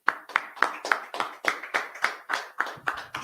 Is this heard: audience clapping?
yes